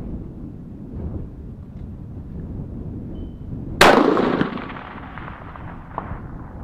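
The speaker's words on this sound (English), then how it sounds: "So maybe one shot to figure out where I'm hitting." A single sharp rifle shot from a gun with a Terminus switch barrel cracks outdoors amid light wind, followed by a quickly decaying echo.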